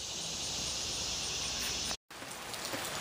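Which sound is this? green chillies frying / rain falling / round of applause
rain falling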